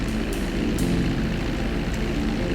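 A video game propeller airplane drones steadily and loudly throughout, a continuous engine hum with no talking over it.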